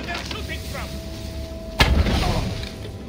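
A single loud gunshot boom in a sword-fighting video game, sharp and close, with a rumbling tail that trails off over continuous game sound and background noise.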